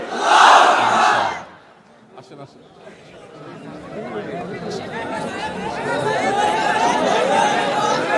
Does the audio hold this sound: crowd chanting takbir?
yes